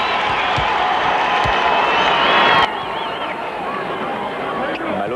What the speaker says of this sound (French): Et on applaudit sans doute pour la rentrée prochaine de Karl Malone